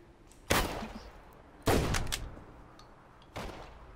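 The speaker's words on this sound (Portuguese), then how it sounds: "Não sei de onde tá vindo o tiro." Gunfire in the video game Deadside: three separate sharp shots spaced over a few seconds, each with a decaying echo, heard alone with no talking.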